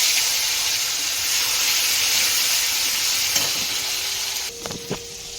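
Tomatoes hit a hot pan with mustard and poppy seed paste, giving a loud, steady frying sizzle throughout, with a few clinks of stirring near the end.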